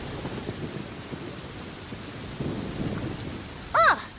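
Rain and low thunder in the video game Genshin Impact, a soft continuous patter with a few distant rumbles, ending in a short bright chime.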